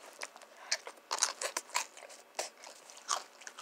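Spicy Doritos Dinamita chips crunched close up in a quiet room, a quick series of sharp, crackly bites and chews with short pauses between them.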